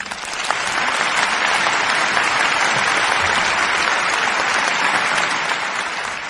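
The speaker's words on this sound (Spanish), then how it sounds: "Un aplauso generalizado resonó en la sala." Widespread applause fills a hall, a dense, loud and steady wash of many hands clapping that sustains evenly for several seconds with no voices.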